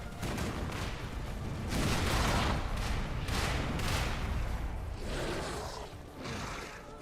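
Heavy booming cannon fire pounds in rapid, overlapping bursts in Lies of P, loud and continuous with no voices.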